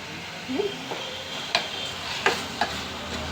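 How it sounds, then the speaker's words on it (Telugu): Potato and capsicum curry frying in oil in a pan, a steady soft sizzle with a few sharp ladle scrapes and taps against the pan. "క్యాప్సికం వేసుకున్న తర్వాత చూడండి ఆయిల్ బయటకు వచ్చేలాగా వేగుతుంది కర్రీ"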